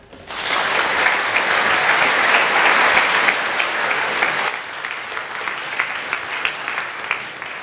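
Audience applause greeting a speaker at a talk, a dense burst of clapping that swells quickly, holds steady, then thins to scattered claps near the end.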